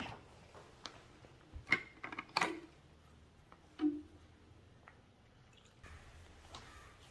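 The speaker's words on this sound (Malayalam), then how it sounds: "ഇനി ഇതിലേക്ക് വെള്ളം ചേർക്കാം." Water is poured into a roasted rice flour batter for toddy-free kallappam, giving a few soft, close drips and wet splashes in bursts amid quiet stretches, with no talking.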